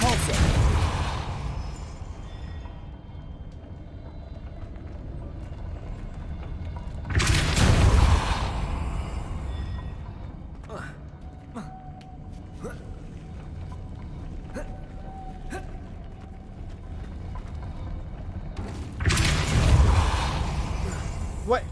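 A Depulso spell cast in Hogwarts Legacy lands as a deep whooshing boom, loud and close, with a second similar burst later amid rumbling game ambience; someone talks in between.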